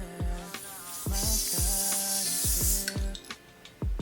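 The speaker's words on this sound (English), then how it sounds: "I'm definitely gonna add spray to it." A hairspray bottle sprays onto a fluffy water wave wig, a sustained hiss lasting about two seconds, while a music track with a thumping beat plays underneath.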